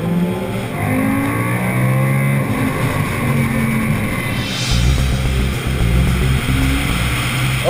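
A 2014 Audi R8 V10 Plus on a race track, its 550-horsepower V10 droning loudly and continuously as heard from inside the car, with rising and falling engine tones as it accelerates and shifts.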